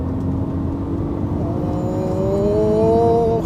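A 2018 Ford Focus ST Line with a 1.0-litre three-cylinder EcoBoost petrol engine revs up toward its 6,500 rpm limiter, its whirring engine note climbing steadily in pitch inside the cabin with no talk.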